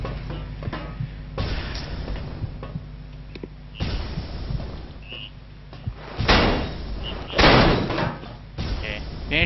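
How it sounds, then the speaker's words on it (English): In the video game Penumbra: Overture, a jammed door is rattled and thumped several times. The knocks and slams are irregular, and someone talks over them. "Door's jammed shut."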